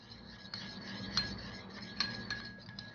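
A spoon stirs fattoush salad dressing of lemon juice, pepper and sauce in a bowl, with soft scraping and a few light clinks against the dish, fairly quiet and close, no talking.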